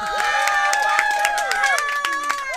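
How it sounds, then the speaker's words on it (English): A summer camp crowd cheers and claps for a guest, with shrill whoops and sustained vocal cheering over scattered clapping throughout. "Let's have a round of applause for Batya Weiss"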